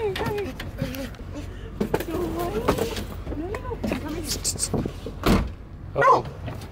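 A van's back door is opened with a brief clunk and a heavier thump near the end, following stretches of people talking and moving around nearby.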